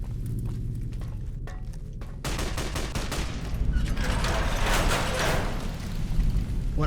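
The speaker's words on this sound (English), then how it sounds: "What are you shooting at? Robots? Oh, it's fiends." Rapid gunfire from fiends in Fallout: New Vegas rattles in dense bursts of shots, building into sustained automatic fire that is loud and continuous, with no talking during the shooting.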